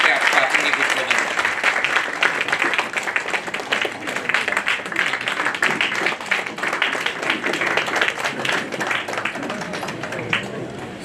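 Audience in a hall gives a loud welcoming round of applause for a municipal commissioner at a chamber function, many hands clapping steadily for several seconds with crowd murmur and voices beneath.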